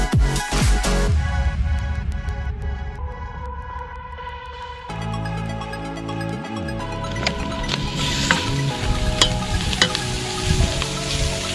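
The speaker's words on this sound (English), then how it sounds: "you hear that sizzle already" Steady sizzling of sea urchin frying in a pan at a campsite, a continuous crackling hiss with occasional clinks of a utensil, close and fairly loud.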